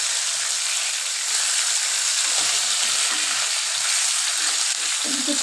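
Large chicken leg pieces fry in hot oil with a steady, loud, close sizzle, while occasional soft bumps sound as the pieces are turned and nudged aside in the pan.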